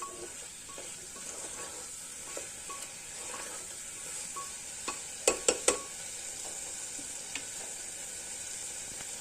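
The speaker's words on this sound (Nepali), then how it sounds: "ल अब फेरि चलाउनु पर्छ।" Tomatoes cooking in a pan: a steady, faint sizzle with soft stirring scrapes, and a quick cluster of three sharp utensil knocks against the pan midway.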